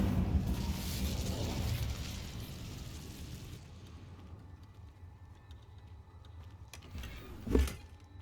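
The Incendio fire spell in the Hogwarts Legacy video game: a loud whooshing, crackling burst of flame that fades over a few seconds, followed by quieter game ambience and a short sharp hit near the end.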